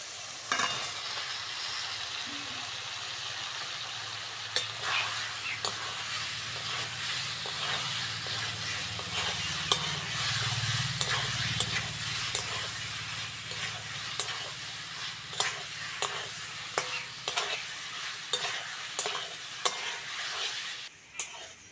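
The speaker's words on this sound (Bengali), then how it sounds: "মশলার সঙ্গে কচুটা ভালো করে কষে নিয়েছি" Boiled taro stirred and fried with spices in a pan, a steady close sizzle with repeated scraping strokes of a spoon against the pan throughout.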